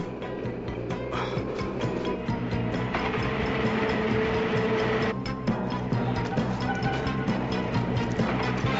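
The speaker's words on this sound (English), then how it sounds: "The train is moving slowly enough that with a good bit of effort they're able to hop on." A train rolls slowly along the tracks with a continuous, heavy rumble and irregular metallic clatter, fairly loud and close, with no voices over it.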